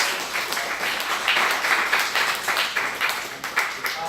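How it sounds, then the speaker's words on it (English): A small audience at an evening meetup gives a round of applause, steady mixed clapping from a room of people, moderately loud and continuous. "If we could give a round of applause again."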